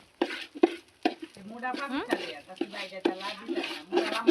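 Biryani rice is being stirred in a pot, with repeated sharp scrapes and knocks of a spoon against the metal at an uneven rhythm, while a person talks over it.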